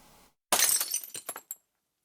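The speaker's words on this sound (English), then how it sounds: "a glass hit or smash" Glass hit and smashed: a sharp, loud crash that breaks into a scatter of tinkling shards, settling into a few brief clinks before falling silent.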